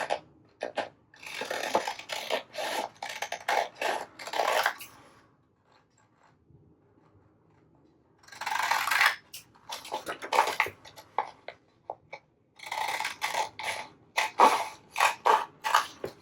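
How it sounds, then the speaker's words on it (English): Scissors trim a scrap of old book page for a bookmark, giving bursts of close, crisp snipping and crinkling paper separated by a few seconds of near silence, with no talking. "I'm going to go ahead and trim it down."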